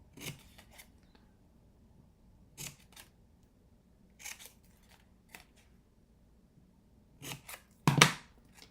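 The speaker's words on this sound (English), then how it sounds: "we are going to cut up to the score line, up to the score line, and we're going to trim this middle one" Scissors cut through scored cardstock in short, crisp snips, several separate cuts spaced across a quiet room, with the loudest pair of snips at the end.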